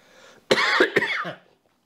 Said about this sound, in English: See, there's that cough that he gave me.